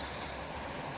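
Continuous rushing and gurgling of a fast-flowing clear river stream in the Peak District, a steady wash of water close by with no voices.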